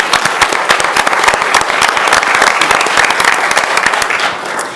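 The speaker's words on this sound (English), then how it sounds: "Let's give Braxton another round of applause" An audience at a city council meeting applauds an honoree, the clapping loud, close and continuous with many distinct hand claps, tapering slightly at the very end.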